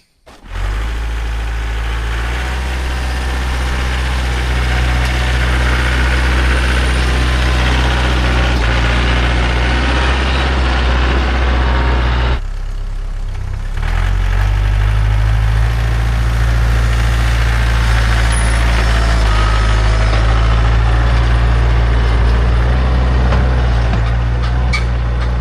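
A truck engine idles before plowing snow, a loud, steady low rumble with heavy vibration, close by and continuous, briefly dipping once midway before resuming, with no talking.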